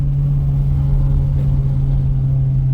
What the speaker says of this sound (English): I'm just hoping you can hear the exhaust.